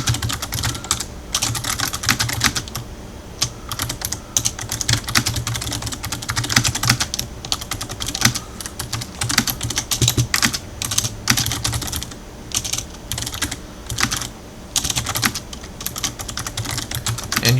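Someone types a brief description on a computer keyboard, producing rapid, uneven clattering keystrokes in bursts with short pauses, close and fairly loud throughout.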